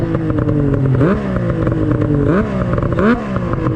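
A Yamaha SX 700 triple-cylinder snowmobile engine with stock carburetor jetting idles with a rough, throaty rumble, then revs up sharply three times in quick succession, close and loud.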